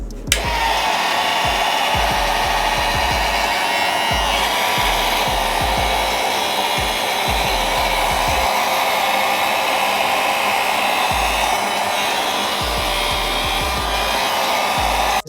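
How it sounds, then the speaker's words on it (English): A heat gun blows steadily to shrink heat shrink tubing over soldered wires, a loud continuous airflow hiss and whine that runs alone for the whole stretch, with faint low knocks and bumps underneath. "next up, we will hit the heat shrink with a little bit of heat"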